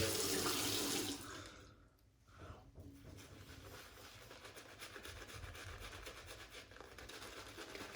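Running water splashing from a tap into a sink while a shaving soap lather is worked, a loud rushing stream that cuts off briefly and then returns as a steadier, softer flow.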